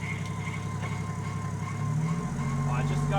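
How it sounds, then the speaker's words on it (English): A car engine in neutral, held at raised revs during off-road driving in high country, a steady low drone that climbs and thickens toward the end, with people talking over it. "Try hold a bit of rev up."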